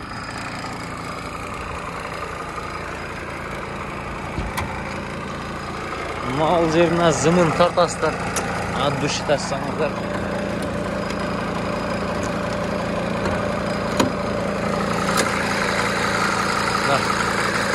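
A diesel engine idles with the hood open, a steady low rumble while someone talks over it nearby, with a few clicks and knocks.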